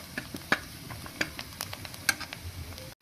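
Pieces of fresh coconut fry softly in a pan, a low sizzle broken by scattered scrapes and taps as they are stirred, quiet and close.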